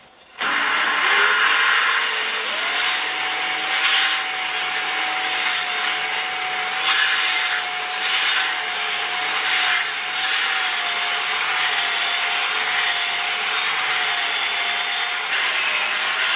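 A steady, continuous abrasive grinding and rubbing as water-based valve lapping compound cuts a rifle barrel crown, close and loud, with a faint motor whine running underneath throughout; no talking.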